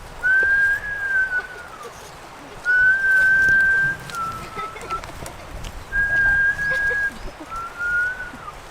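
A person whistles to imitate rising wind, giving four long, sustained tones that each slide slightly downward, separated by brief pauses, over quiet room background.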